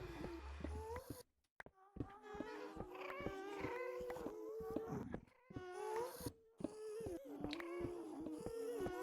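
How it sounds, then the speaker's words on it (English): Ghasts in the Minecraft Nether let out repeated wailing, cat-like cries with a warbling pitch. Short pauses separate the cries, which sound fairly close and steady. "I do not like the sound of ghasts though."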